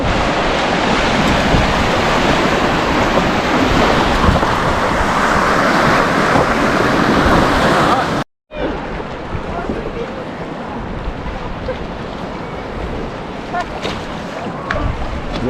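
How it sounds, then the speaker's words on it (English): Ocean waves surge and wash around a boat at sea near Broome, a loud continuous rush with heavy wind buffeting, briefly cut off before the churning water noise resumes. "You want to get sideways on these waves"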